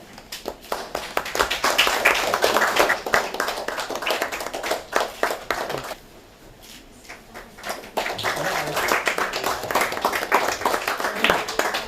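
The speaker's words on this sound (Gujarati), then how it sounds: "ઉર્વશીબેન જોરદાર તાળીઓ થઈ જાય." An audience at a district government event claps in dense, loud applause that dips briefly to sparse claps midway before surging again.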